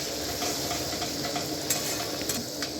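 Poppy seed paste stirred with shrimp in a hot pan, a continuous close sizzle and bubbling fry with soft scraping stir strokes layered over it, fairly quiet and steady throughout.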